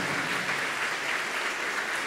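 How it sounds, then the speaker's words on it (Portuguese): Church audience applause during a Catholic priest's talk, dense even clapping from many people at a constant level, with no voice over it. "Aplaude isso aí, pelo amor de Deus."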